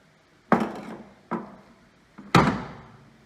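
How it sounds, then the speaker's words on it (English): Three heavy hammer blows on the bodywork of a 1971 Ford Custom, spaced irregularly, each a dull thud with a brief ringing decay, close and loud with no talking. "can hammer on it without scratching my beautiful paintwork"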